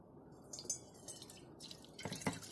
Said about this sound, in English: So you can see that water is flowing down, but again at the bottom you find only one stream.